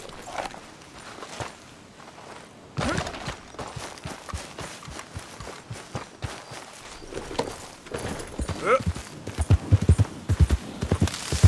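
Horse hooves clip-clop at a walking pace in Red Dead Redemption 2, a steady rhythmic clatter that grows louder and busier toward the end, with no talk over it.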